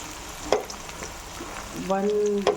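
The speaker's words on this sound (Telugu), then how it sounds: "సో ఇప్పుడు మనం ఇవన్నీ వేసేసుకుందాము ఆయిల్లో." Onions and garam masala whole spices hit hot oil and fry in a pan, giving brief crackling bursts followed by a steady close sizzle toward the end.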